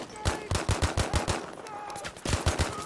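Rapid gunfire in the video game Battlefield V, two fast bursts of close, loud shots in a quick regular rhythm with a short pause between them.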